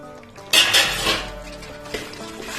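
Grated coconut being stirred into ghee and puffed makhana in a pan, with a sharp metallic clatter of a spoon against the pan, a few scraping clinks and a softer sizzle settling underneath.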